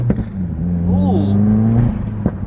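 A 2020 Subaru WRX with a new cat-back exhaust and stage 2 tune hums at a steady idle, then rises briefly in a short rev before settling back; close and fairly loud, with no talking.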